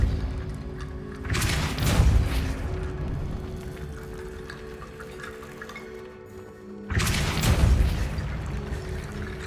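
Two booming spell blasts from the Depulso force charm in the video game Hogwarts Legacy, each a loud broadband burst with a decaying rumble, set over a steady low ambient hum.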